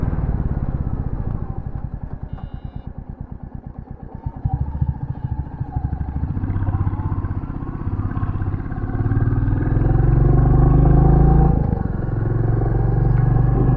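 A new Royal Enfield Bullet 350 motorcycle cruising at about 70 on a country road, its steady engine drone and thumping exhaust paired with heavy wind rumble across the whole stretch, with no talking.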